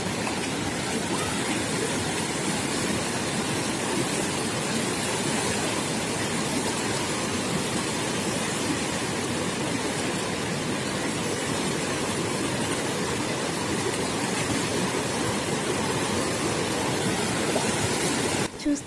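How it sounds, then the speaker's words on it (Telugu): Water pours over a mini waterfall amid green fields at Allugu, a loud, continuous rushing roar filling the whole span without letup. "ఈ వాటర్ సౌండ్ చాలా ప్లెజెంట్గా ఉంటుంది కదా"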